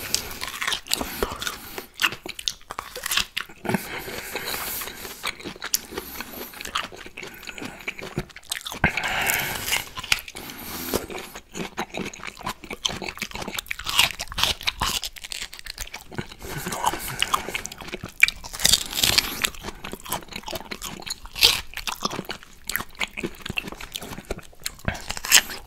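Close, steady eating of juicy orange slices and mango: continuous wet bites, chewing and smacking with crunchy, squelchy textures, dense and unbroken throughout, no talking.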